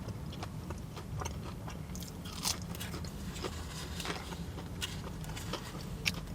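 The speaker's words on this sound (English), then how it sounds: "So you bite into it, you get the crispy outside" Close, quiet crunching and chewing of crispy Greggs cheese and herb bites, soft repeated crackles and scrapes over a steady low background hum.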